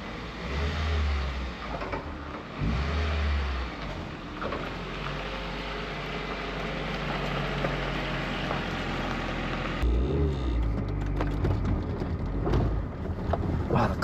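A 1989 Honda Prelude rolls down a driveway, its engine a steady low rumble throughout with a few brief bursts of revving near the start and a rougher change in tone toward the end; no talking.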